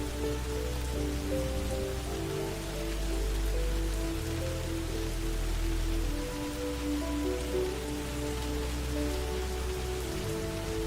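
Steady rain falling on a surface, a dense continuous patter at even loudness with a low rumble underneath, no voices.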